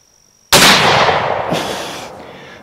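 A single loud percussion-cap gun shot fired with Swiss black powder and a rare number 11 cap, a sharp close blast that rolls off into a long booming decay.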